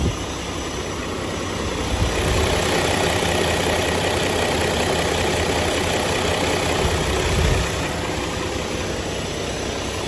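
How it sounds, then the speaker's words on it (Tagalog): The 6WF1 CRDI diesel engine of an Isuzu Gigamax 10-wheeler wing van truck idles in a steady, even drone at close range, with a faint high whine above it and no voices. "ang makina po niya ay 6WF1 CRDI engine."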